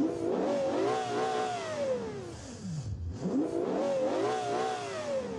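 A sports car engine in BeamNG.drive revs high and loud, dropping briefly as it shifts gears, then climbing back to a sustained whine.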